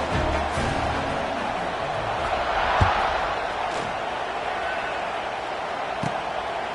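A stadium crowd roars steadily at a kickoff in a football video game, a broad, loud, continuous wash of cheering with a few faint thuds and no distinct voices.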